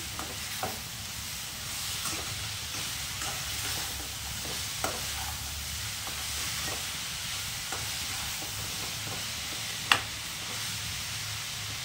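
Radish leaves with salt and turmeric stirred in a pan, giving a soft steady sizzle with scattered scraping clicks of the spatula and one sharper knock near the end.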